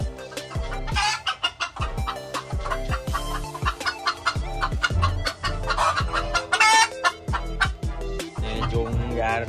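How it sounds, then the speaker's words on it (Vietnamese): Young chickens on a chicken farm in Vietnam cluck busily and constantly at close range, with a rooster crowing amid the flock chatter and no voices. "Gà tơ chạy quá rồi."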